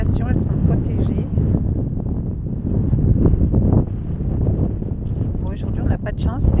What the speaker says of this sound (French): aujourd'hui, on n'a pas de chance, c'est que on a beaucoup de vent